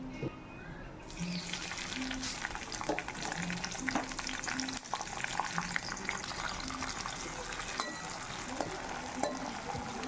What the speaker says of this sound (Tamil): வெங்காயம் கருவேப்பிலை போட்டு நல்லா வதக்கிடுங்க